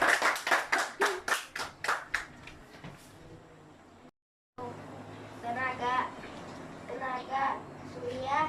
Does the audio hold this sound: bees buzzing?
no